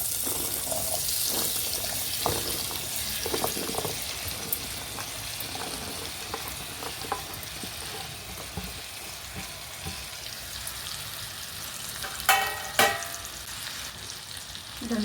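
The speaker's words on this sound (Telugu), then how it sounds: "ఆయిల్ వేడెక్కగానే మనం కట్ చేసి పెట్టుకున్న దొండకాయ ముక్కలను వేసుకుందామండి." Pieces of ivy gourd fry in about two tablespoons of hot oil in a pan, giving a steady sizzle throughout. A few clinks and stirring sounds rise near the end.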